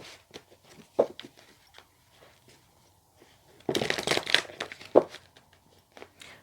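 Tarot cards are shuffled in a quick riffling burst near the middle, with softer scattered taps and card handling before and after, close and quiet.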